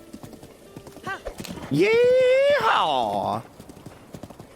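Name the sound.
horse hooves and whinny in video game Breath of the Wild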